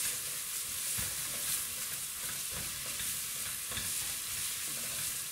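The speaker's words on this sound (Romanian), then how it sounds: "Doar că eu mai trebuie să amestec și aici." Ciorba soup stirred in a pot, a steady simmering hiss with soft periodic scraping strokes about once a second, close by and alone without talk.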